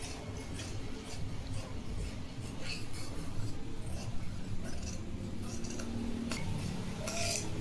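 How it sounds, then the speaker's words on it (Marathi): Scissors cut through blouse fabric with quiet, repeated snips and small metallic clicks at close range, over a steady low background hum. "बघा मी इकडे काही असं कापून घेते।"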